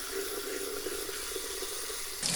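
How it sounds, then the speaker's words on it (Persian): Tap water runs steadily into a bowl of lentils being rinsed before soaking, a constant splashing hiss that shifts brighter near the end. "قبل از خیسوندن عدس‌ها حسابی اونو میشورم تا هرچه گرد و غبار و ناخالصی داره بره و یه آب زلال روشو بپوشونه"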